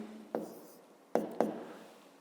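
Pen writing an area formula on paper during a fifth-grade maths exercise: three short scratchy strokes, close and fairly quiet, with a soft low hum underneath.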